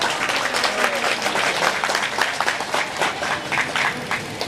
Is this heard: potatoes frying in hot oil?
no